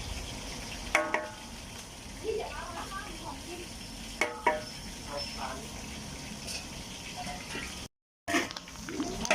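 Pork belly sizzling in hot oil in a large wok, stirred now and then with scraping clinks; a steady close hiss of frying runs throughout while someone talks over it.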